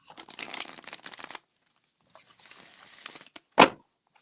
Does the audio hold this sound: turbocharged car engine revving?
no